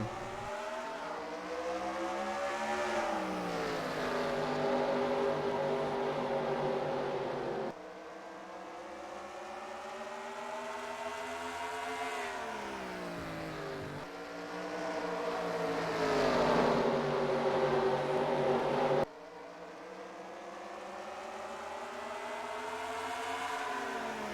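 Race cars in a racing video game at North Wilkesboro, engine notes rising and falling in long sweeping passes as several cars roar by, loud and continuous with shifting pitch and no talking.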